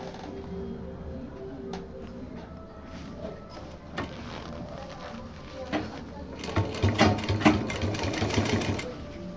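A sewing machine stitching fabric piping onto a DIY cosmetic box, its rapid mechanical chatter running in bursts that grow louder and busier toward the end, close by.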